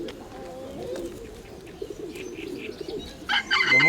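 Steady low cooing from pigeons at a pigeon and bird fair carries on for several seconds, followed by a brief sharper bird call at the end, with faint background chatter.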